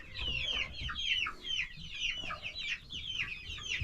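Several young chicks cluck and chirp in quick, overlapping bursts near a heat lamp, close by and steady throughout, with no voices.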